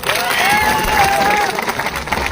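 An audience at a farmers' rally on stage claps loudly, a dense, steady wash of applause with some crowd noise, while a voice carries over it through the short burst.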